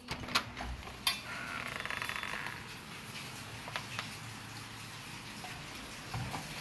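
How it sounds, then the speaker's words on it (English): Steady rain patters softly across the whole stretch, with a few sharper drips and taps standing out. "You know it's raining out there."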